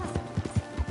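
Horse hooves clip-clop in Red Dead Redemption 2, a steady walking rhythm of four or five distinct, moderately loud thuds within about a second.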